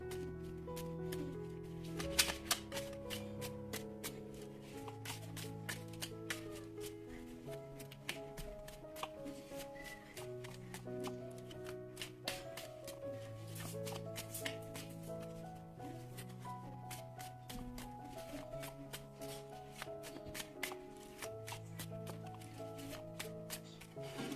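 Tarot cards are shuffled in a steady patter of soft riffling clicks, running continuously beneath melodic background music, with no talking.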